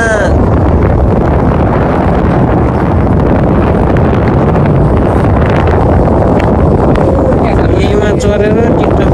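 Strong wind buffets a boat on a river, a loud, continuous roaring rush that fills the whole stretch, with a faint voice near the end.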